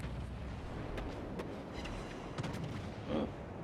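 The Fuso battleship in a naval video game firing its guns in a salvo, heard as faint, low booms and distant rumbling bursts under a steady background roar.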